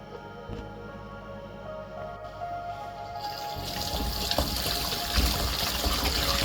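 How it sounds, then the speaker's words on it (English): Cabbage, carrot and other vegetables are washed in water, a steady trickle at first, then louder splashing and sloshing as the produce is handled in the water. "I'm now washing the ingredients"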